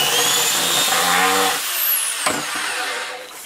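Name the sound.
power drill drilling holes in wood for a console table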